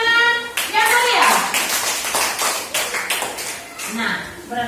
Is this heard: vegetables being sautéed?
no